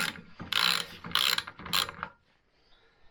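Three quick bursts of ratchet clicking while tightening on a 100 NX motorcycle brake, close and crisp, each burst lasting about half a second, then quiet.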